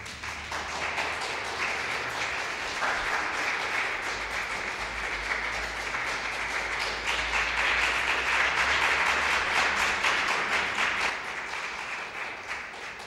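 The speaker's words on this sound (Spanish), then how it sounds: "con el corazón ardiente y con las manos aplaudiendo, podemos recibir al amigo y al padre Benjamín." An audience applauds steadily to welcome a speaker, a dense, continuous clapping that stays even and fairly full for the whole stretch with no voices.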